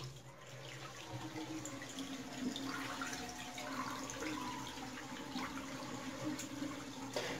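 Water gushing and splashing steadily as a heating radiator on a Bosch combi boiler system is drained during cleaning, a continuous rushing flow with faint drips, close by and with no talking.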